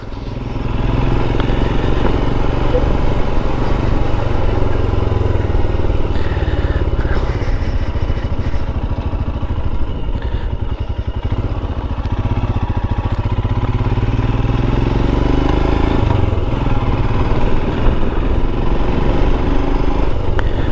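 A Royal Enfield Himalayan motorcycle engine drones steadily while riding, a loud low rumble with clattering texture throughout, close and continuous, no voices.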